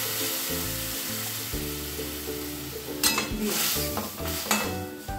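Mustard paste fries and is stirred in a pan, a steady close sizzle with scraping spoon strokes and metallic clinks against the pan, growing busier toward the end, heard without talk.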